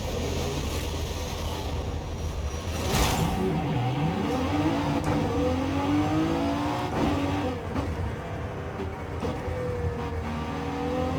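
A new Cadillac driven in Forza Horizon 5 gives a steady engine drone that climbs and falls in pitch as it accelerates and shifts, loud and continuous throughout.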